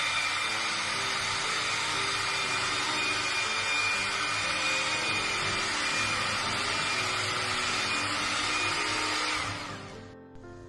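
An electric mixer beats sugar and butter for vanilla cake batter, a loud steady motor whine held without a break until it cuts off abruptly near the end.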